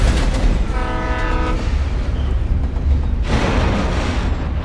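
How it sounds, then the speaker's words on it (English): A train rumbles past loudly in the Alan Wake video game, its horn sounding a steady blast over the heavy, continuous roar of rolling railcars. "there's an actual train going on"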